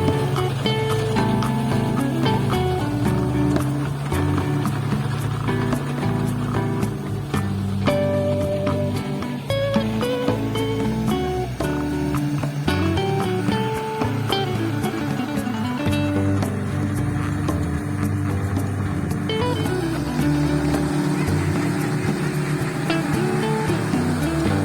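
A John Deere tractor plowing a flooded rice field gives a steady engine drone throughout, low and continuous with rattling and splashing mixed in.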